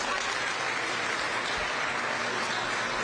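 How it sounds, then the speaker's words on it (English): Audience applause for children at a county youth fair, a steady wash of many hands clapping evenly throughout, moderately distant and without any voices. "Another round of applause for these super knowledgeable kiddos."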